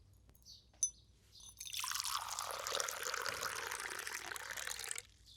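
Drinking water is poured into a glass in a home, a steady stream lasting several seconds after a couple of small clinks, moderately close and not loud.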